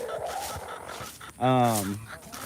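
Egg-laying chickens on a farm, with one loud, harsh honking squawk near the middle standing out from quieter background clucking.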